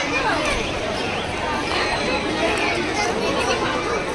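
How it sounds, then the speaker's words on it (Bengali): Dense, steady babble of many voices in a crowded women's compartment of a train, close and continuous with no single voice standing out. "মহিলা কম্পার্টমেন্টে আজকে বেশি ভিড় মহিলাতেই বেশি ভিড়"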